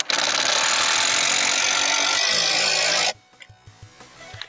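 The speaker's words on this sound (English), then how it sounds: "As I get the second screw in, I think I might try to drill those in at a weird angle." A power drill drives a screw into wood for a lostaircase, whirring loud and steady for about three seconds and then stopping abruptly, followed by soft knocks and handling sounds.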